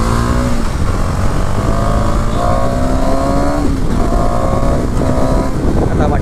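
KTM Duke 250 motorcycle engine revving loudly and steadily up close, pitch rising and falling through repeated throttle blips over a constant rumble.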